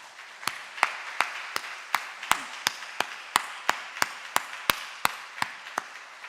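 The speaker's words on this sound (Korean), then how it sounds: "우리 선생님들께 우리 박수를 좀 보내도록 하겠습니다." A standing church congregation applauds its Sunday-school teachers with a steady, evenly spaced run of sharp claps, about three per second, that sound unified and fairly close with no talking.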